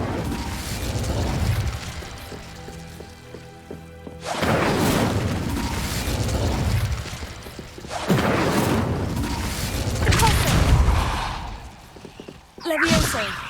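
Casting Incendio in Hogwarts Legacy brings loud whooshing bursts of fire and crashing game effects in several surges across more than ten seconds, with a voice speaking at points.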